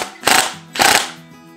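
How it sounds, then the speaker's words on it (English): Two short bursts of an impact drill driving a screw into a brass fitting while mounting a deer scalp, each about half a second of rattling hammering, close and loud, followed by a faint ringing tail. "be very careful with an impact drill because you could easily over torque it and break the brass"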